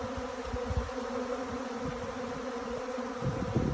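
A honeybee swarm moving into an empty hive fills the air with a dense, constant buzzing drone, close and steady, with individual bees flicking past in brief louder passes.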